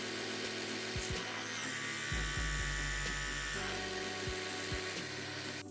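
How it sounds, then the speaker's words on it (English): An Oral-B Pro 2 2500 electric toothbrush hums with a steady high whine that drops to a lower, strained drone midway as it is pressed hard, then rises again, with faint bristle scrubbing clicks. "when I press hard on the toothbrush, you can actually hear it slow down a lot."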